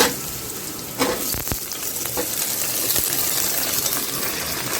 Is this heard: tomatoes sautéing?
yes